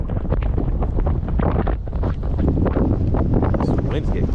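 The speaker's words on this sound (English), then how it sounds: "the wind's kind of just ripping me around" Strong wind buffets a fishing boat on the water during early spring bass fishing in South Jersey, a steady loud roar that covers the whole stretch.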